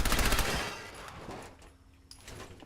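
Automated turrets in the Fallout 4 video game fire at the player in a rapid burst of gunfire that fades quickly, followed by a few scattered distant shots and a short mechanical tone.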